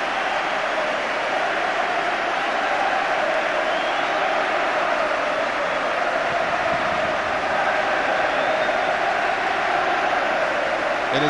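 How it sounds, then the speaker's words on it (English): A football ground crowd keeps up a steady minute of applause before kick-off at Celtic against Inverness CT in tribute to Jimmy Johnston, a dense, continuous wash of clapping from the stands at moderate level. "there'll now be 1 minute of applause for Jimmy Johnston"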